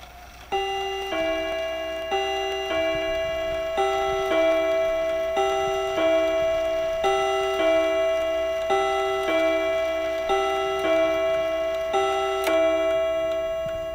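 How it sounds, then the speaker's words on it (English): Steady, even ticking of a restored mantel clock, each tick ringing with a bright chime-like tone, close and clear in a quiet room. "Has a much nicer sound quality than another Mantle clock that I had several months back."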